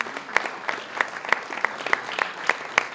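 Sparse, rhythmic clapping from a small gathering at a volunteers' evening honouring a longtime club volunteer, with distinct individual claps in a steady beat, fairly close and moderate in level.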